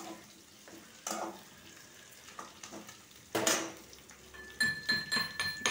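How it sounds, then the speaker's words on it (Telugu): Mixed vegetables for a sabzi sizzle steadily in a pan while a spoon stirs and scrapes, with occasional louder clattering stirs and utensil clinks near the end; no one speaks. "ఇప్పుడు ఇవి వేసి బాగా వేగనిస్తాను"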